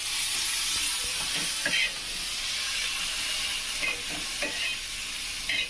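Green chillies roast on a hot tawa griddle while being pressed down, a steady loud sizzle and hiss with occasional scraping and tapping sounds close by.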